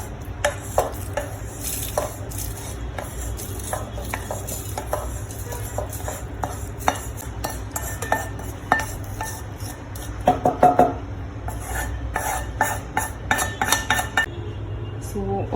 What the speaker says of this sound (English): And now we're going to put in our coconut